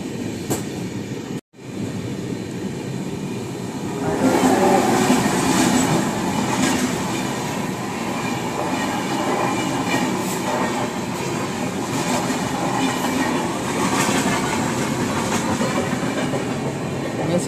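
A passenger train on a long-distance Pune to Kolkata run rumbles steadily with rhythmic clickety-clack of wheels on rails, louder after a brief dropout early on, with wheel squeal hints and no talk.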